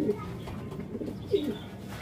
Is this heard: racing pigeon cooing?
yes